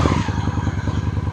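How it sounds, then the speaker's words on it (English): A cheap Honda motorcycle engine runs with the choke pulled out, a loud, steady low putter with rapid even pulses, close up and alone. "pull in your clutch, start the bike."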